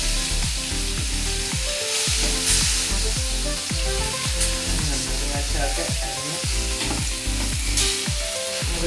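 Okra (ladyfinger) pieces frying in hot oil for a crispy Kerala-style fry, a loud continuous sizzle up close with repeated rhythmic scrapes and taps as the pieces are turned over.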